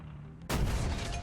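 A single heavy tank cannon blast from a Type 74 (G) in War Thunder booms out suddenly, followed by a sustained rumbling roar.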